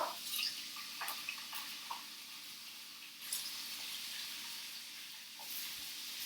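Chicken breast strips dropped into a very hot frying pan for a stir fry produce a steady close hiss and sizzle, with a few small pops and drips scattered through and no voices.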